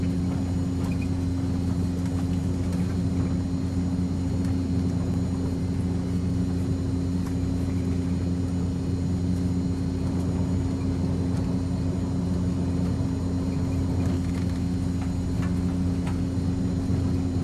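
Cessna 208 Caravan turboprop engine at low idle in X-Plane, a steady loud droning hum with strong low tones and a faint high whine, constant and unbroken with no talking.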